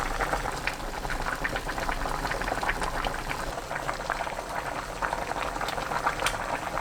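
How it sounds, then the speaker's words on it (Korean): Seaweed soup boiling in a pot with the lid off over medium heat, a steady dense bubbling and gurgling that stays even throughout, close and moderately loud. "끓기 시작하면 뚜껑 열고 중불로 낮춰주세요. 그 상태로 6분 더 끓입니다."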